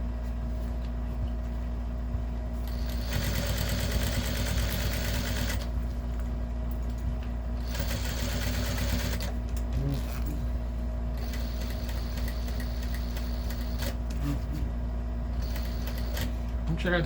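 A domestic sewing machine stitches a Kombi-shaped fabric lunchbox, with bursts of rapid mechanical needle chatter starting and stopping over a steady hum, close by, with pauses between runs.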